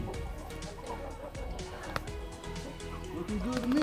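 Hens and roosters in a backyard chicken coop, clucking and murmuring continuously at low level, with scattered sharper calls and a rising squawk near the end.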